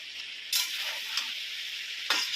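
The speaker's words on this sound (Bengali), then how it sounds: "এবার পুঁই শাকটা দিয়ে দেবো, দিয়ে ঢেকে দেবো।" Malabar spinach dropped into a pan of frying vegetables for a shrimp and spinach ghonto, a steady close sizzle with brief louder hissing bursts as the leaves hit the oil, no talk.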